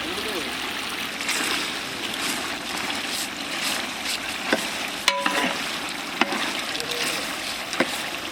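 Chicken roasting in butter for Kalyani chicken biryani, a steady sizzle and frying crackle with occasional stirring clinks against the pan, heard close and continuous at moderate volume.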